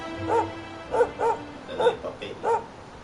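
A dog in Dragon Quest XI barks loudly and close by, about five separate barks in an uneven rhythm over a quiet background.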